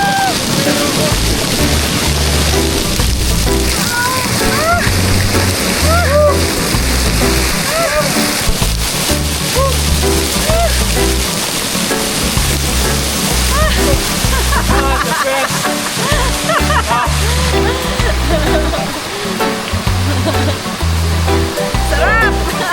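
People splash while bathing in a river, a loud, constant rush of moving water with bursts of splashing, under excited shouting and talk throughout.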